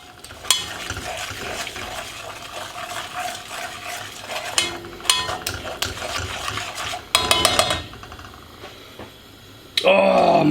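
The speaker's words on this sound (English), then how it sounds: "Right, stir continuously." Bombay potatoes stirred in a pan, with repeated scraping and clattering of a utensil against the metal over a soft sizzle, and a short louder flurry of knocks near the end.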